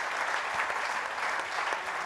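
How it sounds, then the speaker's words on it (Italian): Dense applause from the crowd at an outdoor debate at the Berghem Fest, a continuous, even roar of many hands clapping at close range. "Io farei ancora un applauso a Castelli perché ci ha ascoltato per tutto il tempo"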